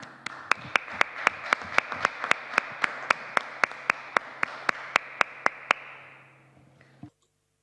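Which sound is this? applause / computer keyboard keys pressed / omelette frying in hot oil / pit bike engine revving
applause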